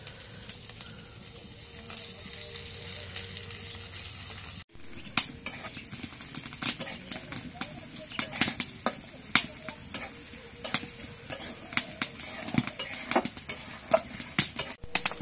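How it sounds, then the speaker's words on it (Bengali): Cauliflower sizzling and frying in oil in a pan over a clay stove, a steady crackle broken by frequent sharp clinks and scrapes of a stirring spoon, close and moderately loud. "এখন ফুলকপিগুলো ভাজি করবো, ভাজির জন্য পেঁয়াজ মরিচ দিয়ে দিই করে।"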